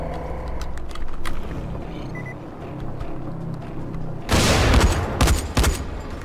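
Gunfire in the co-op video game Dying Light: a rapid, loud fusillade of shots bursts out in the second half, following scattered sharp shots and steady game noise earlier.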